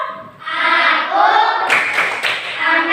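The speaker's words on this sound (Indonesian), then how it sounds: "sekarang lebih semangat tepuk yel-yel" A primary-school class does a rhythmic clapping cheer, sharp hand claps in quick patterned bursts, loud and close, with children chanting along in unison.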